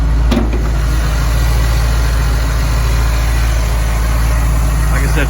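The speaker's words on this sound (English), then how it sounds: "425 Cadillac motor. Runs out smooth." A 425 cubic inch Cadillac big-block V8 in a 1962 Chevy C10 stepside shop truck idles with a steady, smooth low rumble, close and continuous throughout.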